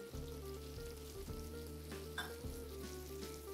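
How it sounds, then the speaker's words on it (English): Cumin and coriander spices toasting in a pan for a lamb dhansak curry, a soft continuous sizzle and faint crackle layered under a steady droning hum, quiet and close, with no voice. "And toast it, we'll start with the spices, the cumin and coriander first."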